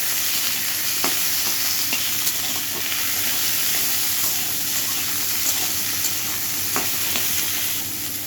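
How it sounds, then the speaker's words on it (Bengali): Bitter gourd and split green chilies frying in oil in a pan, a continuous close sizzle with occasional sharp pops and stirring scrapes, no voices. "এর ভিতরে কয়েকটা লঙ্কা ফাটিয়ে দিয়ে দিলাম। করলাগুলো ভাজা হয়ে গেছে"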